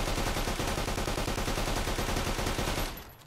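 Sustained automatic fire from a .45 SMG in Fallout: New Vegas, a dense rapid rattle of shots at constant loudness that stops abruptly near the end and leaves a brief fading tail.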